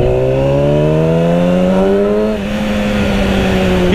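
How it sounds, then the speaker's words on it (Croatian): A 2008 Yamaha R6 with a 600cc four-stroke, four-cylinder, water-cooled engine revs loudly and close, its pitch climbing steadily, dipping briefly as it shifts, then rising again. "Radi se o Yamahinom 600 kubika motoru, četvorotaknom, četvorocilindričnom, vodeno-hlađenom"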